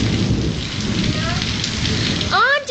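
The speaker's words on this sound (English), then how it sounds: "this is the biggest lightning storm I've ever seen" A heavy thunderstorm pours rain in a dense, loud wash while low thunder rumbles beneath it, and brief chirping sounds cut in near the end.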